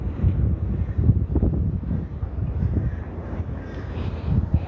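A warm breeze buffets the microphone outdoors, producing steady low rumbling gusts that rise and fall throughout.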